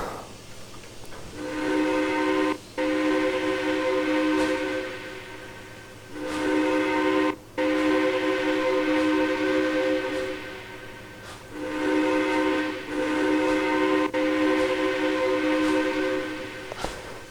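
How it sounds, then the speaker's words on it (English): A WP 4-8-2 steam locomotive whistle in the Trainz 2019 game sounds in three long, loud, sustained chord blasts separated by short breaks, with a noticeable pop at the cutoffs and no voices. "The whistle's not bad."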